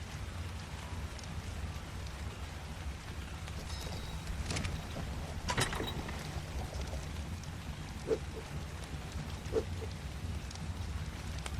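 Rain in the video game Ark falls as a steady, even hiss of droplets across the whole stretch, with a few faint knocks and clicks scattered over it.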